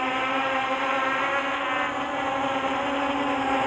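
A Jyu Hornet model airplane flies with its motor running, a steady high buzzing drone with a rich harmonic whine, constant in level and heard alone without talk.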